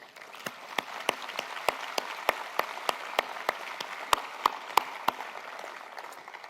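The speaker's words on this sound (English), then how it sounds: "they alone deserve a huge round of applause" A conference audience claps at a closing session, a soft wash of applause with one sharper nearby clap repeating at a steady, even beat throughout.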